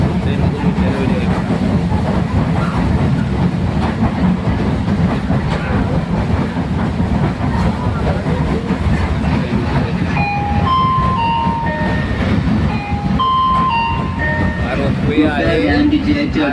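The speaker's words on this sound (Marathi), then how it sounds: "ट्रेनमधून घेतलेला व्हिडिओ" A train runs steadily, heard from inside the carriage, with a continuous loud rumble and rattling clatter. Voices carry on throughout, and a few short tonal beeps sound near the end.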